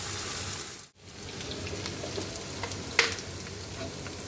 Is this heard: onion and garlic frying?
yes